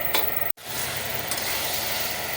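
Chicken liver and stomach sautéing in a pan, a steady close sizzle and frying hiss with faint stirring scrapes and one brief dropout.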